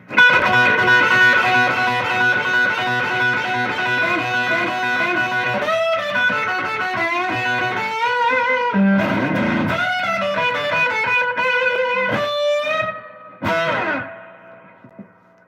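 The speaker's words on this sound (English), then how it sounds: "With the wah, you just get more sustain and more crazy harmonic tones" Electric guitar played through a turned-up Swart tube amp with a wah pedal: loud, distorted, sustained notes with rich harmonics and sweeping tonal shifts. The notes bend and ring with a reverb tail, and the playing breaks off near the end.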